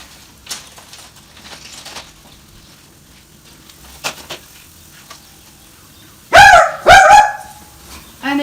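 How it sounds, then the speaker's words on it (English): A dog barks twice in loud, close succession near a backyard barbecue, with quiet outdoor background and faint clatter before the barks. "And there's usually a dog as well."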